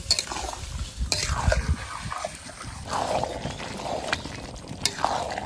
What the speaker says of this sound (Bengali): এইবার মাংস দিয়ে দেবো এবার ভালো করে কষিয়ে নেব